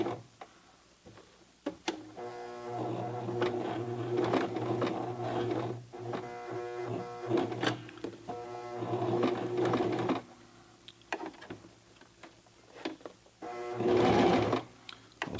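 A Toyota FSG325 sewing machine stitches jeans hem and home decor fabric in steady mechanical bursts, its motor whirring and needle ticking rapidly, with short pauses between runs as the presser foot is lifted.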